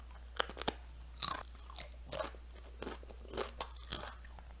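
A tortilla chip is bitten and chewed up close, giving a series of sharp, dry crunches in irregular bursts over a low steady hum, with no talking.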